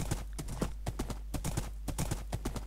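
Horse hooves clip-clop rapidly and evenly in Minecraft during a hardcore playthrough, loud, close and dry with a constant low hum underneath.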